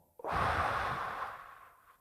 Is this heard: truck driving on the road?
no